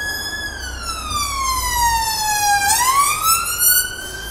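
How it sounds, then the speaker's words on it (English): A loud emergency siren wails close by on a street in Blackpool, England, its pitch sliding slowly down and then sweeping back up, with road rumble underneath. "Here's the siren."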